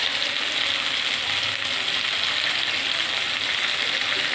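Ridge gourd fries in a pan with a steady, close sizzle and crackle, an unbroken hiss of hot oil lasting several seconds with no voices.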